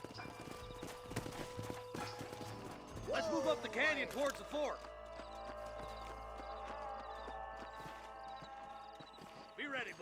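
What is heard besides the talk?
horses walking, from the video game Red Dead Redemption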